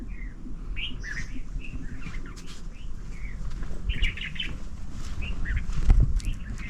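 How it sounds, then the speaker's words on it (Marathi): Scattered high chirps and tweets from several small birds ring out over a low rumbling background, fairly clear but not close, in the natural surroundings of the Shri Jarandeshwar temple near Satara. "पक्ष्यांचा आवाज एकदम स्पष्ट ऐकू येत असेल कदाचित तुम्हाला"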